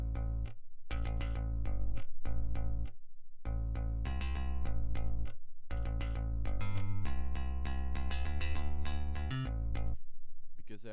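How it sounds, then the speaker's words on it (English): A sampled Kontakt bass guitar layered with a sub bass from Massive plays a rhythmic line of short repeated notes in phrases separated by brief gaps, with deep, sustained low end under the plucked tones. "My bass group has two channels in it. One of them is a bass guitar from Contact."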